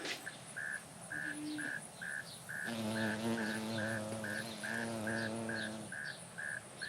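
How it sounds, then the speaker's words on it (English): Bees buzz on marigolds inside a greenhouse, a steady low drone rising and fading over the middle stretch, with a regular chirping insect pulsing behind and no talk. "there's quite a few bees on these marigolds in here"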